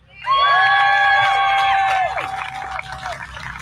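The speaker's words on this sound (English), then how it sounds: "Let's give a big round of applause for Dimitri." A crowd at a vaping rally shouts and cheers loudly, with whistles and whoops bursting in at once and then easing into lighter cheering and scattered clapping.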